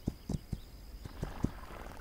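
Faint hoofbeats from a horse in the video game This Land Is My Land sound as the rider dismounts: about half a dozen soft, irregular clops at close range over quiet ambience.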